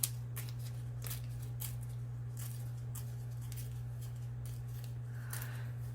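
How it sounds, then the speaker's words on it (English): Paper torn by hand to make a little border, a series of short crisp rips and rustles over a steady low electrical hum. "tear a little border around here"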